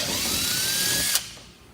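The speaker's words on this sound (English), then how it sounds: "So what you'll do is you'll take your 25/64 drill bit," A power drill with a 25/64 bit bores into a composite car spoiler, a steady close whine that stops abruptly after about a second, leaving a quiet tail.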